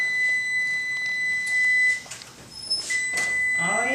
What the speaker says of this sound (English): That timer's going to go off on that bread